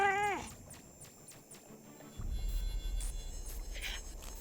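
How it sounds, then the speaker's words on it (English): Loth cat from Star Wars: The Old Republic giving one wavering meow at the start, close and clear, followed by a low droning hum with faint ticking sounds and no talking. "My lovely little loth cat."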